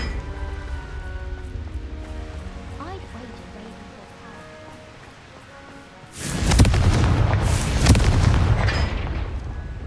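A Confringo fire-blast spell from Hogwarts Legacy erupts as a sudden loud booming explosion midway, followed by a sustained roaring burst and crackle, after quieter ambient game sound and music.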